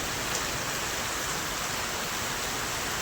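Heavy rain pours in a steady, dense hiss that fills the air without a break, loud and unbroken, with no voices heard.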